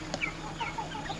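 Several chickens cluck faintly in short scattered calls over a quiet, steady background with no voices.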